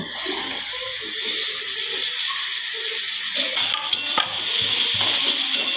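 Onion tipped into a pan of roasted cumin for a palak paneer tempering, frying with a continuous near sizzle and a couple of stirring clatters partway through.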